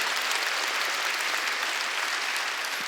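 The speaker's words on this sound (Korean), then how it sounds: "박수 치려면 치고" A church congregation at a Wednesday worship service claps in dense, sustained applause that holds at an even, fairly loud level throughout.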